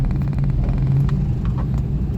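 Steady low rumble of idling cars stuck in a slow traffic jam held up by a fallen gravel truck, close and continuous with no talk.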